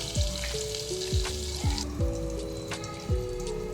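Quarter teaspoon of cumin seeds fry in two ladles of oil with a cube of butter in a kadai, a steady close sizzle with repeated sharp pops and crackles, no voices.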